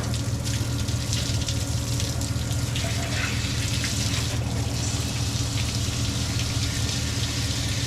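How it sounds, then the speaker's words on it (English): Water rushes steadily out of the heater core of a 1969 Ford F250 during a cooling system flush, a loud, continuous gushing splash close by. "we're gonna flush out the heater core before I put the water pump back on"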